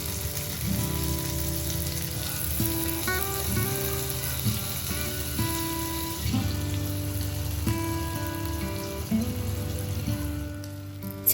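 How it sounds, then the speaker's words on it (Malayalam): Chicken pieces frying in melted butter in a pan, a steady close sizzle and crackle running throughout with faint clinks and background tones underneath. "നമ്മൾ ബട്ടറിലാണ് ഈ ചിക്കനൊക്കെ ഫ്രൈ ചെയ്തെടുക്കുന്നത്."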